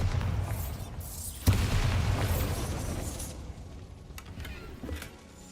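A Bombarda spell explosion in Hogwarts Legacy, a sharp blast followed by a rumbling, decaying boom with debris crackle, fairly loud and close, with faint clicks after.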